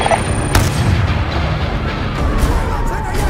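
Dense gunfire and explosive booms fill a combat scene in Call of Duty: Black Ops 2, a continuous loud barrage with a sharp blast near the start and faint shouting voices mixed under the din.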